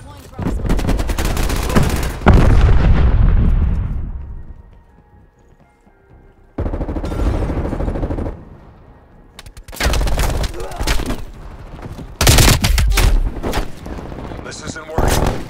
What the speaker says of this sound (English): Sentry turret detected in your AO.